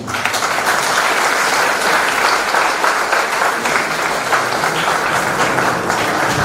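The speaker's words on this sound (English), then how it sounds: "That applause is not enough." Audience applause after a speech at a media company's anniversary celebration, dense steady clapping from a large crowd, loud and sustained throughout with no talk over it.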